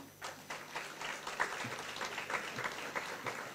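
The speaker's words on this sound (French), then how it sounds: "Je vous demande de l'applaudir" Festival audience at the opening ceremony of the Gwo ka festival applauding the designer of its visuals, a crowd of hands clapping continuously with sharp individual claps poking through, moderately distant and steady.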